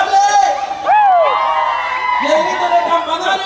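A lively crowd at a Campanario village dance whoops and shouts with high, rising cries, loud and close, layered over music and excited voices.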